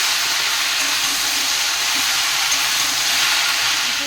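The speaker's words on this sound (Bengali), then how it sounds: "আর হলুদ দিয়ে আলু আর কুমড়োটাকে ভালো করে ভেজে নিয়েছি এবার এর মধ্যে পুঁই শাকটাকে দিয়ে দিচ্ছি" Malabar spinach goes into a pan of potato and pumpkin frying with turmeric, producing a steady, loud, close sizzling hiss that holds without a break throughout.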